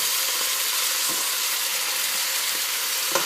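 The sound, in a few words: beef short ribs and onions browning in a pot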